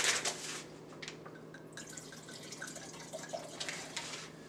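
Wine trickling and splashing into a glass over a tabletop, a steady close liquid pour with small drips and gurgles, fairly quiet, no talking.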